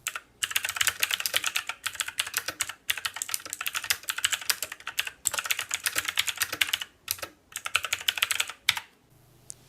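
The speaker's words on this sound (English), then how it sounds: "It is the 10 keyless edition of the Tomoko i500 with custom MX Blue switches." Tenkeyless Tomoko i500 mechanical keyboard with custom MX Blue switches, close and loud rapid clicky typing in bursts with short pauses between, alone.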